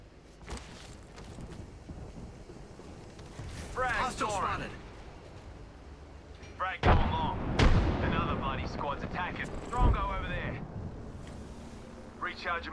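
A thermite grenade thrown and bursting in a shooter video game, heard as heavy booming blasts and rumbling fire over steady battle noise, with voices talking throughout.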